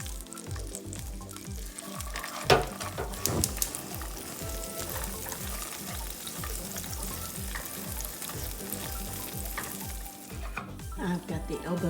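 Peas cooking in bacon grease in a pan, a continuous close sizzle with bubbling and light stirring sounds throughout.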